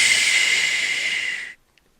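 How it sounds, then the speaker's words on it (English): One long, forceful breath blown out steadily for about a second and a half, a loud close airy rush that cuts off abruptly. "First of all, you want them to exhale as much as they can."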